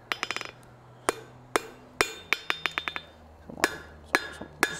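Hammer blows ring out on hot metal at an anvil during a live blacksmith forging demonstration, coming in quick clustered bursts of sharp, bright metallic strikes separated by short pauses.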